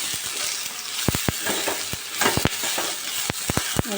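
Tamarind pickle ingredients fry and get stirred in a pan on the stove, a steady sizzle broken by sharp scraping clicks of the spoon, close and continuous with no talking.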